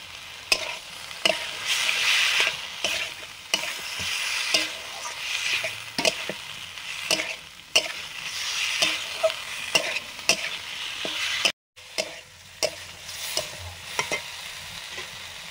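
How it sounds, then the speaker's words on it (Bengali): Fried pointed gourd (potol) goes into a hot pan and is stirred, giving a constant close sizzle dotted with frequent spatula taps and scrapes. There is a brief silent gap about two-thirds through, and no one speaks. "ভেজে রাখা পটলগুলো দিয়ে দিলাম"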